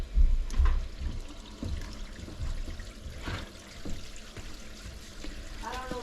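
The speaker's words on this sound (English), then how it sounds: "All right, water's running in that 2-inch" Water from a running bathtub on the second floor flows through a 2-inch drain pipe, giving a low, gurgling rush with occasional splashes and trickles that swell and fade over several seconds.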